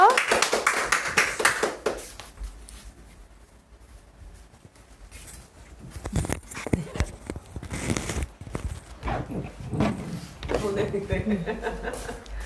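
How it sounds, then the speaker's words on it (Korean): Scattered clapping from a small audience at an eye-health home meeting greets a guest coming forward, uneven bursts of hands that rise and fade around stretches of talk. "박수로 모실게요."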